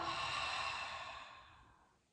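One long, soft exhale during a pelvic tilt exercise, close to the mic, breathy at the start and fading out gradually toward the end.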